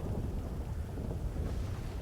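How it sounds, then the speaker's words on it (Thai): Steady, dense rain pours throughout with a low rumbling wash, like a heavy downpour close by, continuous and even with no voices over it. "มีเสียงฝนมันดังครับ"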